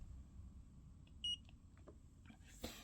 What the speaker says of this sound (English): You wait for the beep